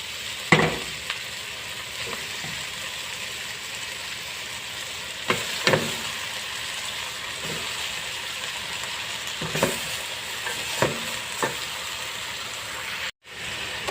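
Onions and mutton sizzle in a hot pan with a steady frying hiss, broken by occasional spoon scrapes and clinks as the food is stirred close by. No one speaks.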